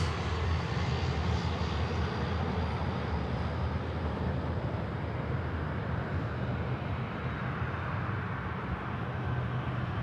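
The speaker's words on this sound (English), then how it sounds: "All Japan Airlines now on the move." All Nippon Airways airliner taxiing at Sydney Airport, a steady broadband engine roar that holds loud and even throughout, with no voices over it.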